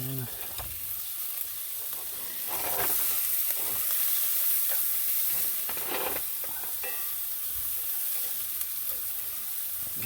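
Butter sizzles and hisses steadily in a pan while bacon bannock cooks, with a constant close frying crackle, occasional scraping stirs and soft clatter.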